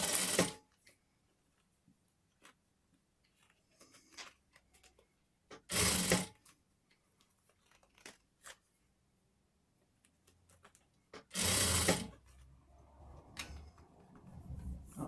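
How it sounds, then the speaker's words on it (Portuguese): A sewing machine stitches a sweatshirt with satin in three loud bursts of rapid stitching separated by quiet pauses, with soft handling noises in between. "vou fazer um pezinho de máquina da costura"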